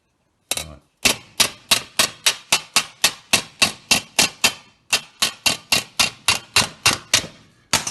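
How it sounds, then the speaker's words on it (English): A hammer strikes sheet steel held against a dolly while a headlight panel is shaped, giving a steady run of about twenty loud, ringing metallic blows close up with one brief pause. "So I'm hitting hammer off dolly there a little bit."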